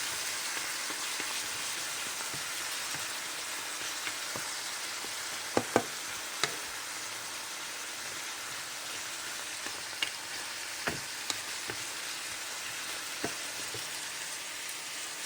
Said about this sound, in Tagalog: Sutay natin yung papaya.